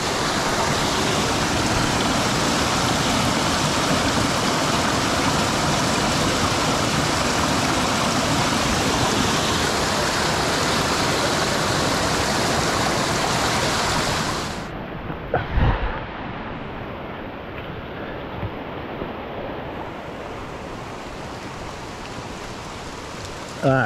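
Water rushes steadily and loudly at a creek crossing on Christmas Creek in Lamington National Park, a dense close flow for about fifteen seconds before dropping to a softer, more distant trickle with a brief knock.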